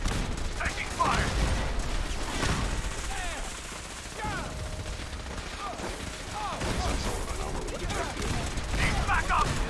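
Repeated bursts of gunfire and explosions in Fallout 4, a dense, continuous barrage with sharp shots and booms over several seconds, mixed with game noise and talk.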